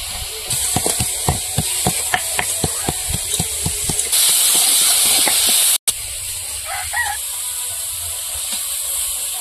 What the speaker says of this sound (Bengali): আলু শাক ভাজা করার জন্য চিংড়ি মাছগুলো ভেজে নেবো।